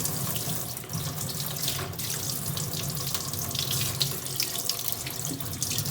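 Steady rush of water pouring from a faucet into a sink, continuous and fairly close, with no voices.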